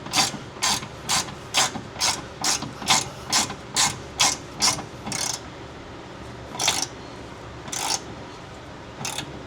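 A hand ratchet tightens the bolts of an adjustable control arm on a Mitsubishi 3000GT, giving a close, loud run of about a dozen evenly paced clicking strokes, then a pause and three slower final clicks.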